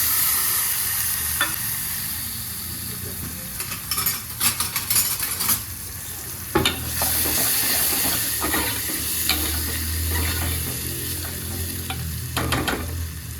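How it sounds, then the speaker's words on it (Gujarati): Asafoetida, onion and tomato hit a hot pan with a loud, continuous sizzle, broken by repeated clanks and scrapes of a spoon stirring against the metal, with no talking. "હવે નાખશું હિંગ પછી નાખશું ડુંગળી ટમેટા"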